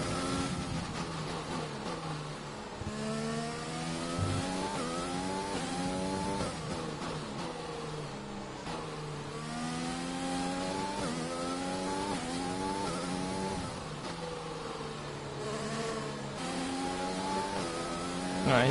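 An F1 race car engine in the F1 2020 video game on the Hungary circuit, loud and continuous, revving up and down through rising gear shifts with a high whining tone, heard alone.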